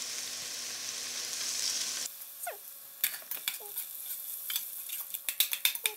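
Butter and olive oil sizzle in a frying pan, a steady broadband hiss for two seconds that drops to quieter crackling with sharp scattered pops and utensil clicks.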